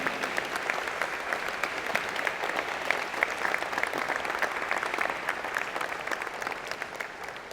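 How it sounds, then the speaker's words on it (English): Sustained, dense applause from a large convocation audience, steady and even throughout with no break, a crowd clapping in unison from start to finish. "I want them to stand and give them a big round of applause"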